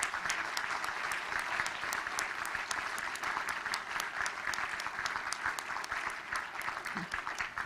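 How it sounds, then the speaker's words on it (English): A large forum audience applauds the arrival of Taiwan's president at the opening of an EU investment conference: dense, steady clapping that holds at an even level throughout, loud and close, with no break. "Please welcome President Tsai with a warm round of applause."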